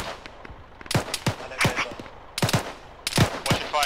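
Gunfire near a beach and road: sharp, loud shots crack out in irregular bursts and pairs, some close and some echoing, over a low rumbling background.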